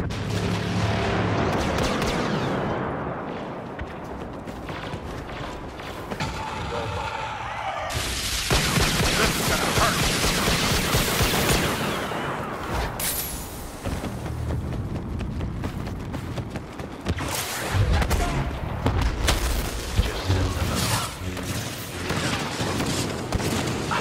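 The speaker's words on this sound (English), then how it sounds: "Blaster fire kind of hurts." Blaster fire rattles through a Star Wars Battlefront battle, dense, loud and nearly continuous, layered with booms and chaotic combat noise for the whole stretch.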